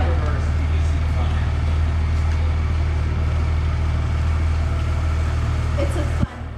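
Car rolling slowly in reverse, a steady low engine rumble close by with faint road noise, ending in a sudden thump; people talk over it.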